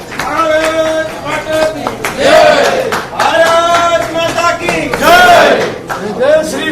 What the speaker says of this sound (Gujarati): આપ સૌ એમને પણ તાળીઓના ગગડાટથી વધાવશો.